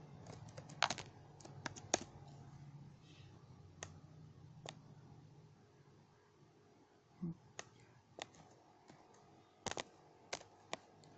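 Typing CSS code on a computer keyboard, quiet, close key clicks in uneven bursts and scattered single taps, with a faint low hum underneath early on.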